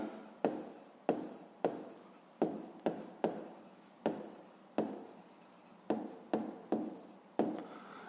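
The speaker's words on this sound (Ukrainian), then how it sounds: "записуємо відповідь, пишемо відповідь" Pen writing an answer on paper during a fifth-grade maths exercise, a quiet run of scratchy strokes with sharp taps as the nib meets the page, close up with no talking.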